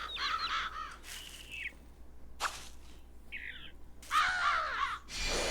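Several crows caw in a Sega video game, with harsh repeated calls in bursts separated by short pauses, loud and close, alongside a couple of sharp game sound effects.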